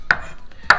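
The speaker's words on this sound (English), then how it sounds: "Chop it finely." A kitchen knife chops epazote leaves on a cutting board, giving two sharp, close chopping strokes spaced apart with quiet between.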